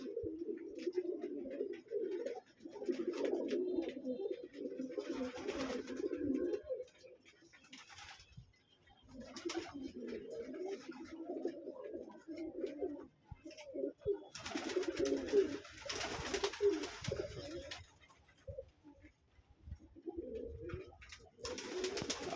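Red shaker pigeons coo in a pigeon loft, a steady run of low throaty calls close by, fading in the middle and then swelling again with several birds overlapping.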